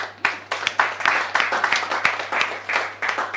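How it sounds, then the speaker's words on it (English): An audience at a live media engagement event claps in short, fairly regular bursts for about three seconds, a steady, rhythmic patter close to the microphone with no one speaking over it. "Can you please give him a round of applause?"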